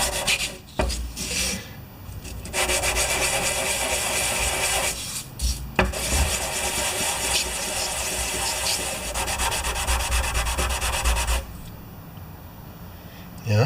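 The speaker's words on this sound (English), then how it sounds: "I've got a piece of sandpaper. This is pretty flat. And I'm just going to rough it up a little bit to see what we get." Sandpaper rubs steadily over a flat part from a 1973 Briggs carburetor, a close, continuous scratchy rasp lasting about nine seconds between brief pauses.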